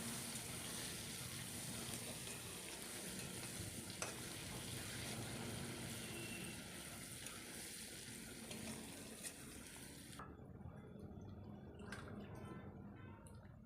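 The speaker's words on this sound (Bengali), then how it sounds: "এবার দিয়ে দেবো একটা ছোট পেঁয়াজ কুচি পেঁয়াজটাকেও একটু হালকা করে ভেজে নেব" Chopped onion frying in a pan for a Bengali ol chingri dish, heard as a steady, fairly quiet sizzle that holds for about ten seconds and then drops away to a few faint crackles.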